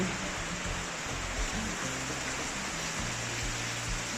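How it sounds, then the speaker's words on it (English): Steady rain falling in fog, a soft, even hiss that holds constant throughout, with some faint low rumbling underneath. "This is the usual rain and fog that happens here every day, right about this time."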